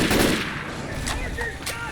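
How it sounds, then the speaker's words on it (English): Rapid machine gun fire in Left 4 Dead 2 runs as a steady stream of loud, close bursts that clatter through the whole moment. A few sharper cracks stand out over the continuous rattle. "The machine gun."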